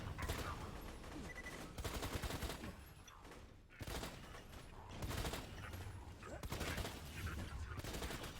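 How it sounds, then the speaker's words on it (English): Rapid hip-fired gunfire from a weapon in the video game Borderlands 2 comes in several long bursts separated by short pauses, loud and continuous, with game sounds mixed in. "The recoil's kind of a lot when you're hip firing."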